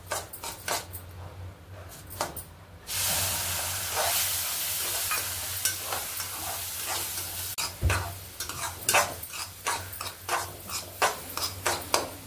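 Mango juice meets roasted semolina in a pan for mango shira, starting with a surge of hissing sizzle, then repeated spoon scrapes and knocks against the pan as the mixture is stirred, close and without talk.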